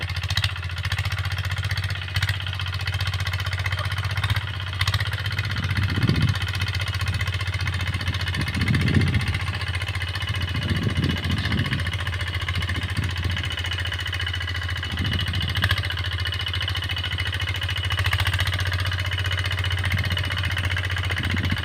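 A steady, droning engine of a drilling machine runs continuously at close range, with a low mechanical hum and occasional heavier pulses as the machine labors digging soil.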